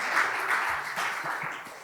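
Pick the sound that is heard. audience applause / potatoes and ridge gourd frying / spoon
audience applause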